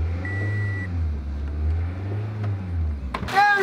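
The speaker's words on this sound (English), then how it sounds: "Start it up. Give it a few revs." A car engine runs with a hose pressure gauge attached, settling into a low, uneven idle that surges and dips in slow waves, then comes a sharper mechanical clatter and a whining rise near the end as it is revved.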